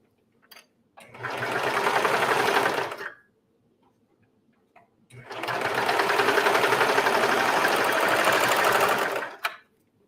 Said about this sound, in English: I'm going to just sew those 2 shoulder seams